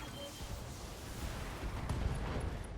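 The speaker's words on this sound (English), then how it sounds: "Ammo explosions." Mech ammunition cooking off in the Battletech video game gives a continuous deep rumbling roar of explosions, with a sharper blast cracking through near the end.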